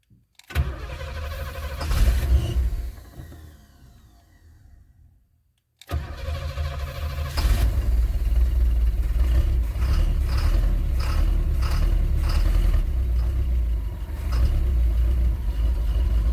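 A 1977 Pontiac Trans Am engine cranks and fires, fades and stumbles briefly, then restarts and settles into a loud, steady rumbling idle that carries on for the rest of the stretch.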